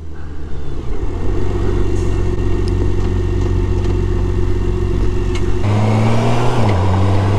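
A 2023 BMW K1600 B touring motorcycle cruising on the road, its engine a steady loud drone with constant wind rush, the pitch shifting up near the end as the rider accelerates.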